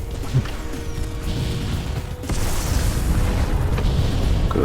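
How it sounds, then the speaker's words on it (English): A docking ring blowing apart in a space combat video game: a deep rumbling boom with mechanical crashing that swells after a moment into a sustained roar, loud and dense, with no talk. "Docking ring Alpha has lost all integrity. Get away from her now before you find the explosion."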